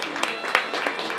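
An audience claps for a children's team at a horseback riding club's tour event on the Hortobágy, producing a brief, steady patter of applause at moderate level.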